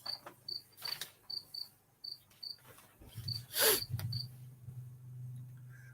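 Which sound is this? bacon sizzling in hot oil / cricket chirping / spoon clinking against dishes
cricket chirping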